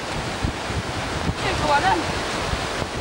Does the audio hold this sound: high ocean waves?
yes